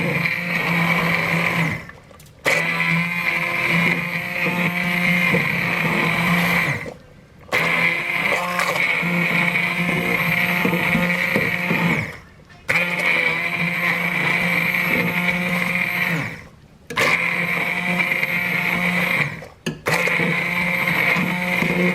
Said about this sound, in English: I'm going to go in now with the immersion blender and just get it to a little bit kind of the consistency that I want it